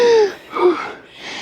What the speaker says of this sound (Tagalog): Puro hingal na rinig nila sa atin.